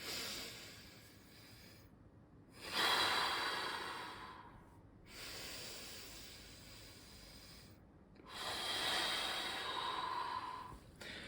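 A man demonstrates slow deep breathing, drawing air from the stomach up into the chest: three long breathy inhales and exhales, close and soft, with airy hissing and no speech.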